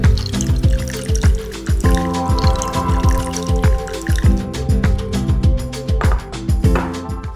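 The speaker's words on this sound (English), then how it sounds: "So I'm just gonna quickly pour this over some ice." Chilled Café de Olla coffee poured from a container over ice, a steady stream of liquid with clinking, dripping ice cubes, close and fairly loud with no talking.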